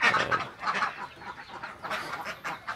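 Tasik ducks, older laying hens in a pen, quack and chatter in a dense, busy chorus of overlapping calls that rises and falls throughout, fairly close with no talk.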